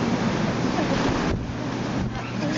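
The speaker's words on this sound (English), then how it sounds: "Before it was just windy, now it's, well, cold and windy. Now it's raining" Wind and rain buffet the top of the Stuttgart TV tower, a steady, loud rush of gusts roaring across the microphone with no pause.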